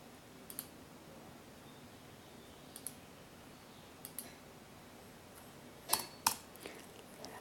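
Scattered mouse clicks in charting software, a few sharp, isolated close clicks spaced irregularly, with a louder double click near the end over quiet room tone.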